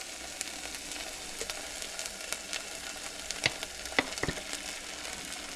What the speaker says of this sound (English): While that's hot, come in with some sriracha.